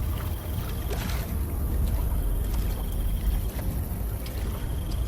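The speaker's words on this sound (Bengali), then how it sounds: "পলাশ নৌকার দাঁড় টানতে শুরু করে দেয়" Oars rowing a wooden boat across still water in a cartoon ghost story, a steady low wash of water and creaking strokes with faint wind, continuous and close, no talk.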